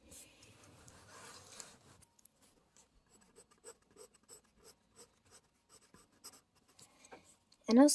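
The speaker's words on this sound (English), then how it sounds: "So you just kind of draw a big line away from each other." Pen or pencil drawing long lines on paper for an iris sketch, a rough scratchy scribble for the first two seconds, then a series of short soft strokes in a steady rhythm, ending in a louder burst.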